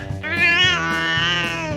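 A cat gives a single drawn-out meow, loud and close, rising then falling in pitch with no other sound behind it.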